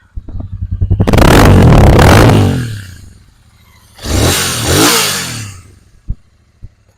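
A 2023 Royal Enfield Interceptor 650cc twin-cylinder engine revs hard twice, a long loud burst then a shorter one, with a few sharp pops and clicks as it settles.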